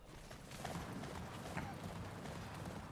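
Horse hooves clip-clopping in the video game Attack on Titan 2, a quiet, steady trotting rhythm mixed with faint game ambience.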